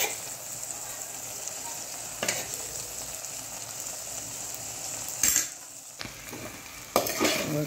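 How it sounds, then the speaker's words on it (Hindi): Vegetables sizzle steadily as they are sautéed in a pan, with foxtail millet added and stirred in. A few scraping clatters of the stirring spoon stand out over the quiet frying. "ज़्यादा मैं पकने नहीं देती हूँ, थोड़ा कच्चा ही रखती हूँ। मुझे बहुत अच्छा लगता है कच्ची सब्जियाँ। और अभी हम मिलेट डाल देंगे।"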